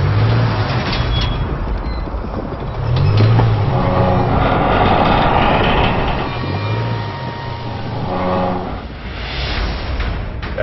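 A lightly modified Land Rover Discovery Sport on rail casters tows a train along the track, a loud continuous engine drone with low rumbling hum and rolling noise throughout.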